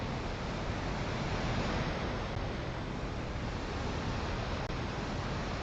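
A steady, dense rush of falling water from a waterfall in a video game runs unbroken at an even level throughout, a broad hiss with no voices over it.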